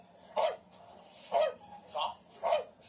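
IShowSpeed barks at dogs, four short separate barks spaced about a second apart, a voice imitating a dog, moderately close.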